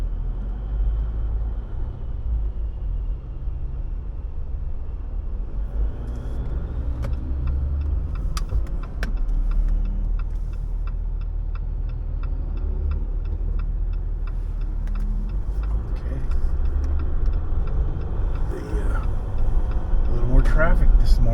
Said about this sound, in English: Traffic this morning on a Saturday morning.